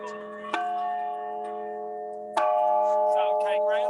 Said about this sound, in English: No, it's our bell.